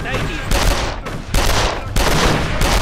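Mauser C96 broom-handle pistol shots in the video game Darkest of Days, three or four loud sharp reports with sustained roaring tails, spaced roughly every half to one second, with a low voice murmuring beneath.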